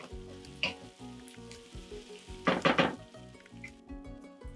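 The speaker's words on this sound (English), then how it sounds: "Give everything a stir." Onion, ginger and garlic fry in a pan for a Kenyan-style crispy curry chicken, a close steady sizzle with a quick burst of spoon scraping and clatter as everything is stirred.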